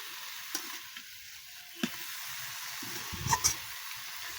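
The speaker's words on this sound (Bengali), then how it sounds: "আমাদেরকে ভাত হচ্ছে দেখতেই পাচ্ছে ভাত ফুটছে" Rice boils in a pot, giving a soft, steady bubbling hiss with a few faint knocks, quiet and close with no talking.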